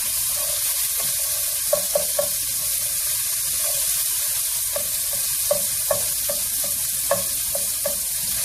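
Garlic, basil and tomatoes sizzle steadily in a hot frying pan, with a broad hiss punctuated by repeated stirring clicks and scrapes, close up and without speech.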